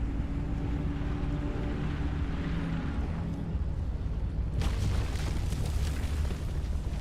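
A car's engine roars steadily in the Pacific Drive video game, with dense rumbling noise that swells into harsher bursts of battering and impacts partway through, loud and close without any talk.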